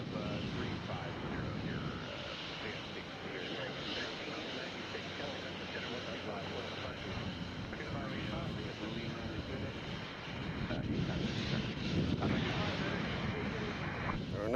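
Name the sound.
Southwest Airlines plane departing at Nashville airport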